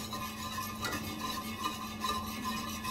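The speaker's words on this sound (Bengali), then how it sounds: "গ্যাসের ফ্লেম মিডিয়াম টু লোয়ে রেখে অনবরত নাড়তে হবে।" Orange-flavored milk pudding thickened with cornflour and egg, stirred continuously in a pan over a medium-low gas flame: a faint, steady scraping and swishing close by, with no voices.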